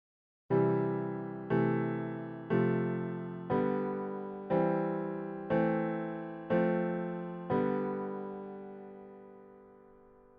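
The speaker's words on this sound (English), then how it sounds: "That's the idea for the left hand of the piano, and it will sound like this." Eight evenly spaced piano chords struck once per beat, each ringing and decaying before the next, the last left to fade out; no voices.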